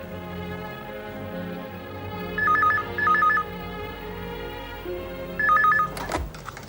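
A telephone rings in three distinct double-trill bursts over a steady background of music in an indoor domestic scene, ending with a soft thunk as the receiver is picked up.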